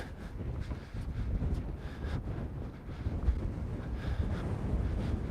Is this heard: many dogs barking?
no